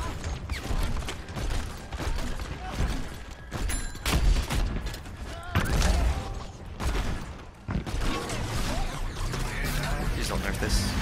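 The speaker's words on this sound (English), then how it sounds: "basically just lob grenades everywhere" Grenades lobbed in the shooter game Overwatch burst repeatedly in a busy barrage of booms and mechanical clatter, loud bursts recurring every second or two amid constant game noise.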